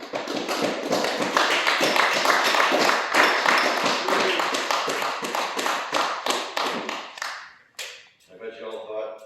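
Audience at a thirtieth-anniversary weekend gathering in Tremblant breaks into loud sustained applause and cheering after a speech, dense clapping that thins out toward the end.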